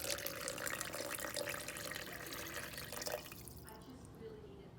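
Roughly half a cup of water is poured into a spicy chili mixture for chilaquiles, a steady splashing rush that fades out near the end.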